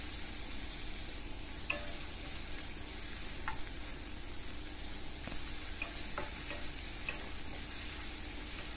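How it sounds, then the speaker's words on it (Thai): Minced pork stir-fried in a pan, a quiet steady sizzle with occasional soft clicks and scrapes of the utensil against the pan, with no talking. "ผัดหมูไปจนกว่าจะสุก"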